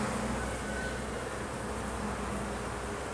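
Honey bees buzz around the hive in a continuous, dense drone, close and steady with no voices.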